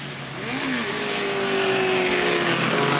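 Two Yenko Stinger race cars run side by side through the final corner complex at Mid-Ohio, passing a trackside commentary position in a steady, loud engine drone that gradually swells as they come by.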